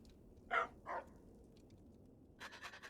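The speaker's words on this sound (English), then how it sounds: "I thought the dog was gonna talk to me" A dog in the video game Fallout: New Vegas gives two short, close barks or pants early on, followed by quieter rustling game sounds and faint higher-pitched chatter near the end.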